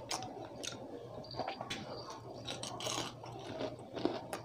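Someone chews crunchy fried chicken with lettuce and tomato up close, making a steady run of moist crunches and mouth sounds under a faint background hum.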